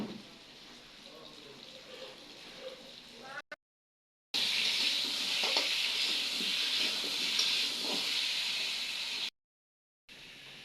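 Steady hissing sizzle of potatoes frying in hot oil for a meat dish, continuous and fairly loud, with faint clinks of stirring and brief gaps of silence.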